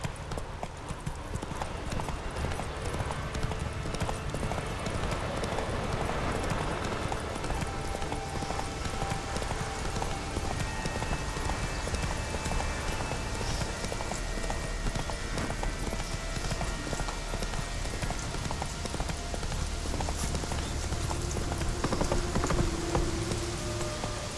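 Horse hooves clip-clop steadily throughout as the mount gallops in The Witcher 3, a continuous fast rhythm over rain-like ambient noise, with a brief voice urging the horse on.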